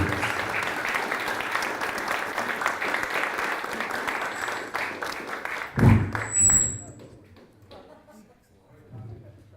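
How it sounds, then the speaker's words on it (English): An audience applauds a lecturer after a history talk, with a dense roomful of clapping that swells and then tapers off into scattered claps, shuffling and quiet murmurs. "Let's all give a big round of applause for Dr."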